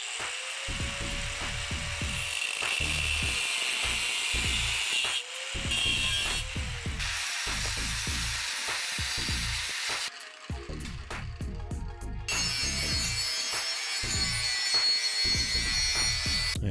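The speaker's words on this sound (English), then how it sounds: "And a little bit of cleanup with a wire wheel." A power-driven wire wheel cleans up the frame of a small kids' bike being built into a freak bike, with a motor whine spinning up and repeated short gritty scrubbing bursts, close and loud, with brief pauses between passes.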